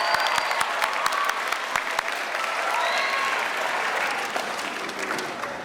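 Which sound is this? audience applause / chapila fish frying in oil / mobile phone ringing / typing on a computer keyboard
audience applause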